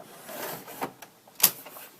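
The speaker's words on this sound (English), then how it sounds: "You will pull this lever" Lever pulled on a Samsung CLP-510 color laser printer, giving a few soft plastic clicks and then a sharper snap as the door pops open, close by with no talking.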